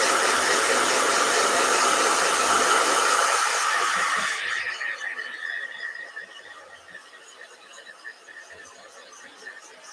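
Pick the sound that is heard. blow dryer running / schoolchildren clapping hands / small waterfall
blow dryer running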